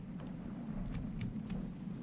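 Steady rain falls with low thunder rumbling in a Genshin Impact game scene, a continuous wash with a few faint brief ticks over it.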